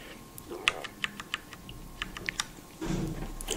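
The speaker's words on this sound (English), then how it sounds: "I'm sort of bottoming out the keys there, but it's got a nice feel" Keys on a mechanical keyboard are typed close up and pressed all the way down, giving a run of sharp, uneven clacks. A louder rustling noise follows near the end.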